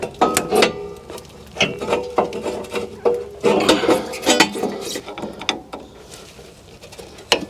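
Rear brake caliper piston on a Nissan Pathfinder, Armada or Titan being pushed back in by hand, producing a run of close metallic clicks, scrapes and clunks in irregular bursts with no speech.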